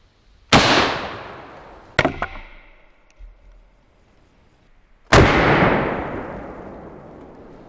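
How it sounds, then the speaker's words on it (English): A 12 gauge shotgun fires a 3-inch slug into a pumpkin: one sharp, loud blast, then a second crack with a brief echo, then a further heavy boom that rolls away slowly, with no voices. "let's go ahead and hit it with our 3-inch slug"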